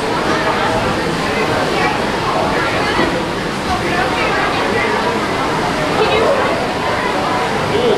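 Rushing, splashing water at a flume ride in the Six Flags Fiesta Texas amusement park in San Antonio, a loud continuous roar under crowd babble and nearby talking.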